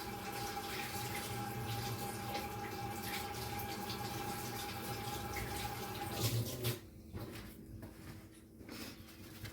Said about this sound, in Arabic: هغسل ايدي بس ثواني بقى.